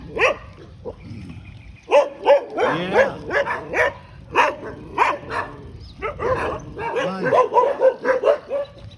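Several dogs bark and yip in quick, uneven bursts in a street in Thailand, fairly close and loud, continuing throughout with short pauses between volleys.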